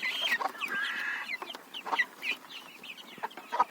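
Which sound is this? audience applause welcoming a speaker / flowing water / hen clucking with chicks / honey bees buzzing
hen clucking with chicks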